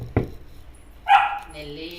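A dog gives a sharp yip, followed a moment later by a louder bark that trails into a whine, heard close by indoors with a person's voice nearby.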